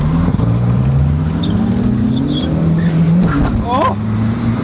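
A yellow 400-horsepower Volvo engine revs loudly and close by, its pitch rising and falling in steady pulls, with people talking over it.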